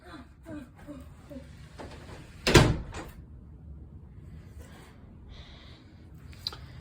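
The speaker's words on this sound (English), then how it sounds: "Aaron, close the door." A door is shut once in a house, giving a single solid thud near the middle, with faint room noise and some movement before and after.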